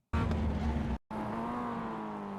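Mazda MX-5 race car in iRacing at Laguna Seca, a loud close engine drone that cuts out abruptly for a moment, then resumes at a steady pitch with a buzzing harmonic tone.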